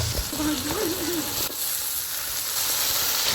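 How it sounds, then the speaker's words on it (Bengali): Steady broadband sizzling of chopped potatoes dropped into hot oil with cumin and onion in a frying pan, loud and close throughout, with a brief stirring clatter and a short voice-like tone early on. "এবার আমি আলু কাটাগুলো দিয়ে দেব।"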